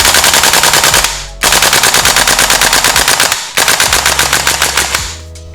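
A Tokyo Marui AKM gas blowback airsoft rifle fires loud, rapid full-auto bursts up close, three long strings separated by short pauses, each shot a sharp clack of the cycling bolt.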